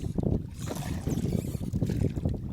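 A rowed wooden boat with oars, no motor, crosses water toward an abandoned village schoolhouse reachable only by boat, giving a steady low rumble of water and hull with wind noise throughout.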